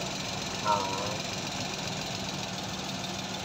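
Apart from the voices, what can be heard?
multicab's surplus Japanese engine idling roughly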